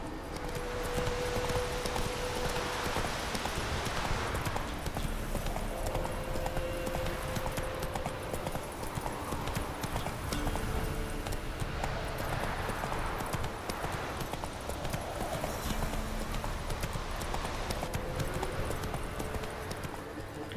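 Roach the horse galloping in The Witcher 3, a steady drumming of hooves that runs unbroken throughout, with a faint whinny and soft speech in places.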